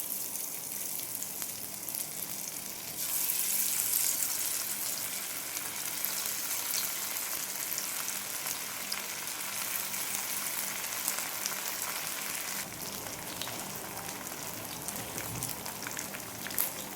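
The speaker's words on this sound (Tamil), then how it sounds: "இப்போ ஃபிஷ் எல்லாத்தையும் பொரிச்சு எடுத்துக்கலாம்." Masala-coated fish fries in hot oil for a Perambalur-style fish fry, giving a steady, dense sizzle that carries on evenly throughout. The frying is close, with no talking.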